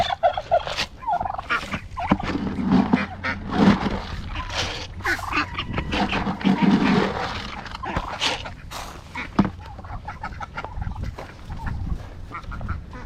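Farm ducks call at feeding time in a busy, overlapping chorus of honking and gabbling, close by and fairly loud, in irregular bursts.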